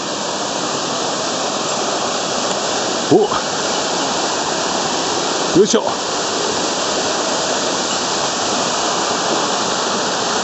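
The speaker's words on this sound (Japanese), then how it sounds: "なかなか立派な滝です。" The Ōtaki waterfall on the route to Mount Ōtake roars as a steady broad rush of falling water close by, with two brief louder knocks and a person briefly speaking over it.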